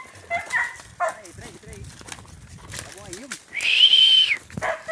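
Dog barking outdoors in a northeastern Brazilian rural setting, a few sharp barks and whiny yelps scattered among people talking close by.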